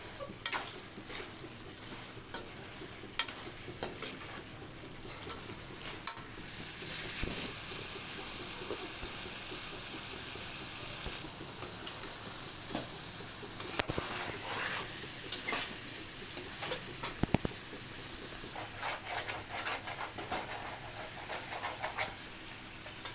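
Chicken pieces coated in chili powder are stirred in a pan, producing repeated scraping and clanking of a utensil against metal over a low sizzle, close and intermittent, with no talking.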